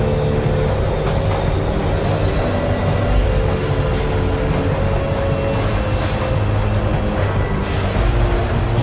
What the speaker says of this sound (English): This subway has been start to move.